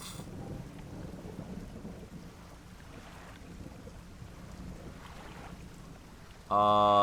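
Other boats moving through rolling fog on open water in a video game, heard as a faint, distant, eerie low rumble over wind-like ambience. A loud tonal chime cuts in at the very end.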